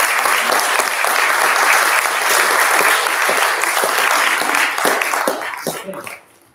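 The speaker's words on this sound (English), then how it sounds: "Let's give them a round of applause" A crowd gathered at Pickles Gap Baptist Church gives a loud, full round of applause that stays steady and dense for several seconds, then trails off into a few last claps.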